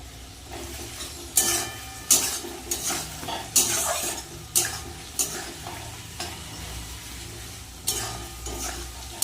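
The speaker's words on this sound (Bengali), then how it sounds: "এর মধ্যে দিয়ে দেব আদা আর রসুন কুচোনো" Chopped ginger and garlic frying in a pan with already-fried potatoes and onions for a Bengali fish curry, a continuous sizzle broken by repeated loud stirring scrapes and clanks of a utensil against the pan.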